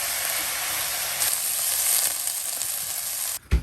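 Shredded cabbage fries over a high flame in a home Konkani kitchen, giving off a loud, steady, close sizzle. The hiss briefly drops away near the end, then a short clatter follows.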